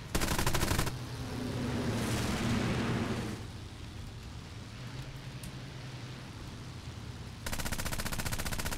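Machine guns of a C.202 Folgore fighter firing in the video game War Thunder: loud rapid bursts open and close the stretch, with a steady engine drone filling the gap between them.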